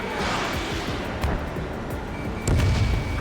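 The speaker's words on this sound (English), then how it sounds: "Target is in range of guns. H2, missile launch." Ace Combat 7 jet combat with steady loud roaring engine and gunfire noise throughout, a heavier burst near the end suggesting a missile launch.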